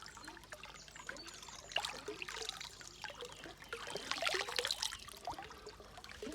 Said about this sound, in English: I'll show you this little water feature